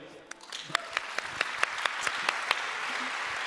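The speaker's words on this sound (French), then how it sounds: "on peut les applaudir" Applause from an audience at a gathering on evangelization, a soft bed of clapping with distinct individual claps rising above it in a quick, fairly regular rhythm, modest in volume.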